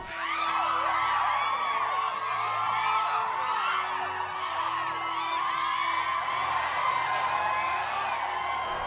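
A crowd cheers, whoops and shouts for the family moving into the White House, a dense, loud roar of excited voices, including children's, that continues steadily throughout.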